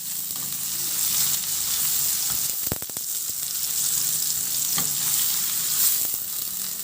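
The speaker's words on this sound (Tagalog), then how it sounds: "ilagay ko na rin yung sibuyas. Ihalo lang din hanggang sa maluto yung sibuyas." Garlic and onion sauté in a pan for spaghetti sauce, giving a loud, continuous close-up sizzle with a few sharp clicks and scrapes from stirring.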